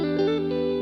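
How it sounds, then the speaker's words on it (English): Electric guitar part played through a cathedral reverb effect, a sustained chord ringing with a wide, washy spacious tail, close and steady for under a second. "you'll notice that I've had this cathedral reverb here set up this whole time."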